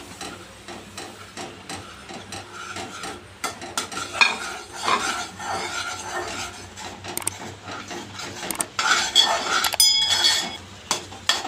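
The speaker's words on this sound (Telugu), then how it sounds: "బాగా మరిగినవి ముందుగా వేయించుకున్న రవ్వ వేసి కలుపుకుందాం." Roasted semolina stirred into boiling water in a pot for ravva burelu, a spoon clinking and scraping against metal in busy, irregular strokes over a soft simmering hiss, near and fairly loud.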